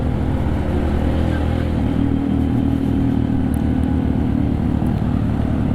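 An automatic scooter motorcycle engine descending the steep Bromo slope toward the sea of sand, a steady close, low drone with no clear revving.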